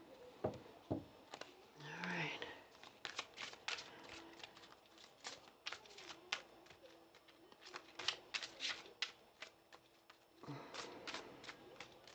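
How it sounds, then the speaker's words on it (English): Rapid papery riffling bursts of cards being shuffled, repeated several times, with someone speaking softly in between. "Okay, we'll give it one more shuffle."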